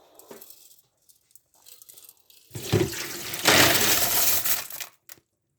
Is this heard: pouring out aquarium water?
yes